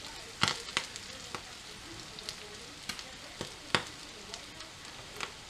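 Double cream in a cooling pan used for peppered steak, giving a faint, gentle sizzle broken by scattered sharp clicks and taps of a utensil against the pan, heard close with no talk.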